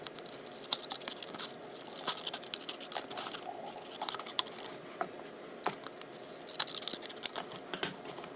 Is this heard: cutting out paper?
yes